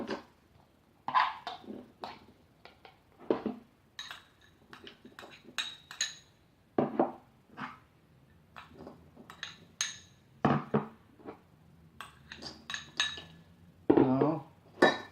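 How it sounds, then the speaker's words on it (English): Dry fruits such as cranberries, dates, raisins, apricots and plums drop into a bowl, giving a scattered series of close clinks, taps and clatters with short pauses between them. "let's add all our dry fruits into this bowl"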